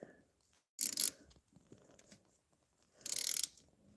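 Tap dipped in acetone chasing head stud threads on a 1996–2005 Chevy Astro, turned with a ratchet: two short, sharp bursts of ratcheting clicks, close and loud, with quiet metallic handling between them.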